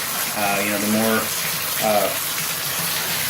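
Water runs steadily from a shower faucet with a plastic cartridge and single lever, a continuous broadband gush heard close up through the whole stretch, with a voice talking over it at points.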